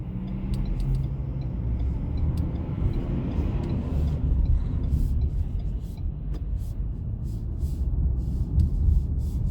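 Inside a 2020 Ford Edge SEL cruising on the road, a low, steady rumble of tyre and engine noise continues under faint ticking, with no one talking.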